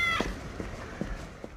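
A cat meows in a short repeated series, three or four quiet calls spaced evenly over soft room noise, fairly close but not loud.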